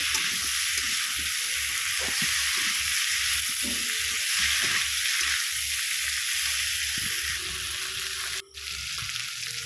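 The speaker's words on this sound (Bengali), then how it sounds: "সেই আলুগুলো দিয়ে দিলাম, দিয়ে খুব সুন্দর করে কিছুক্ষণ কষিয়ে নেব।" Thinly sliced potatoes sauté in a pan over a wood-fired stove for a home-style ridge gourd and potato dish, with steady loud sizzling and irregular scrapes and stirs of a utensil throughout.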